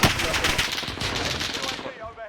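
Video game gunfire in a shooter: a loud, rapid burst of automatic fire, close and continuous, that tapers off near the end.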